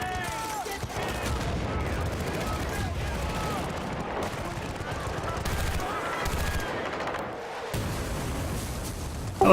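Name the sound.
rocket launcher fire in video game Battlefield: Bad Company 2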